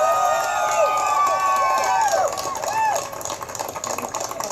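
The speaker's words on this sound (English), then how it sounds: "Senator Bernie Sanders, speaking to a very enthusiastic crowd here at the Latino Heritage Festival." An enthusiastic crowd cheers at a Latino Heritage Festival political rally, with a loud, sustained roar that stays steady before easing off toward the end.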